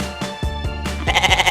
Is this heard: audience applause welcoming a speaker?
no